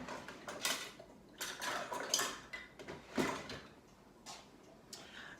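Metal cutlery clinks and clatters against dishes as a tablespoon is pulled from a drawer in a home kitchen during jam preserving, with several bright, close rattling bursts spread over a few seconds.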